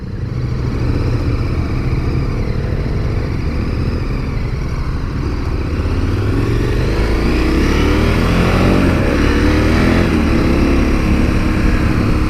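A KTM Super Adventure 1290 motorcycle rides along with a loud, close engine drone that climbs and falls in pitch through gear changes, overlaid by steady wind rush.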